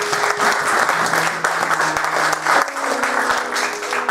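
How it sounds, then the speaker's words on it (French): A church congregation breaks into sustained, dense applause that fills the room, steady and loud throughout, with a held musical tone running underneath. "Est-ce qu'on peut acclamer pour le Seigneur?"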